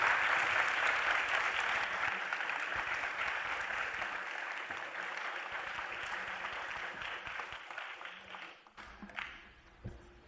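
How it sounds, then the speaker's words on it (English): A large audience applauds a panel at a documentary premiere in Washington, D.C.: dense, steady clapping that fills the room for about ten seconds, then thins and tapers off near the end. "join me in giving another round of applause to this panel"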